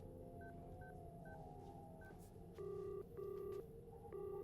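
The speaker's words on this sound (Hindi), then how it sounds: "फोन लगाओ, मैं उनसे बात करना चाहता हूँ" A phone number is dialed on speakerphone in a police station scene from a South Indian thriller film, with several short keypad tones followed by a series of long, steady dial beeps over low background hum.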